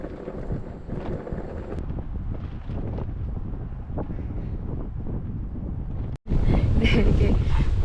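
Strong wind buffets the microphone at a seaside campsite by the sea, a steady roaring gust noise that swells louder near the end, with some talk faintly mixed underneath.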